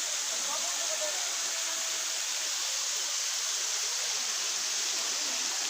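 Water from a hidden spring in Calatrava rushes in a constant, close, even hiss with no breaks or voices.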